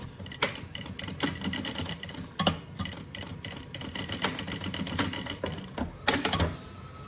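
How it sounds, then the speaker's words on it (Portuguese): A sewing machine runs a seam along a backpack lining, its rapid needle clatter continuous and close, broken by a few sharp clicks and bursts as the fabric is guided. "voltamos a fazer agora uma costura a pé de máquina"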